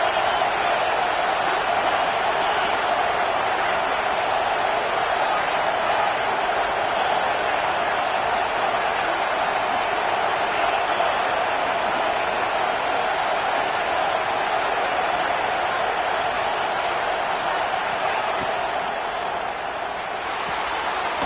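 Steady roar of a large football stadium crowd during an American football game, a dense continuous wash of cheering and noise with no break, loud and constant throughout.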